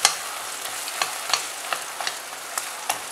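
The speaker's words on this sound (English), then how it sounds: "I'm just mashing all the tomatoes" Cooked, mushy tomatoes being mashed in a pan for a dry potato-cauliflower masala: a run of sharp, irregular scraping taps against a soft frying sizzle, close and fairly clear, with no voices.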